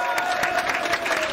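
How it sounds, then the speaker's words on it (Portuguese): An audience at a stand-up comedy battle bursts into applause after a winner is announced, a brief, dense patter of clapping mixed with crowd noise. "Aplausos"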